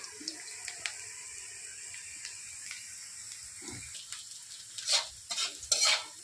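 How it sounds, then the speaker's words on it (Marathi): Onions browning in a pan for green chili chicken give a faint, steady sizzle with light scraping and stirring, and a few louder clatters of the utensil toward the end. "आणि मी इथं कांदा आता भाजून घेत आहे।"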